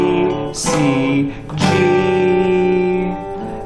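Solo guitar picks out the opening melody of the hymn Praise to the Man, with clear single notes ringing and sustaining close up at a steady, unhurried pace.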